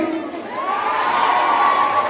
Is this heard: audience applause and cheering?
yes